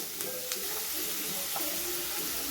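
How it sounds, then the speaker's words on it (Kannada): Onions frying in a pan for a goat blood fry dish, a low, steady sizzle with a couple of faint ticks, quiet and close, with some talk over it. "ಈರುಳ್ಳಿ ನೀಟಾಗಿ ಫ್ರೈ ಆಗ್ತದೆ ಅಷ್ಟವರೆಗೂ"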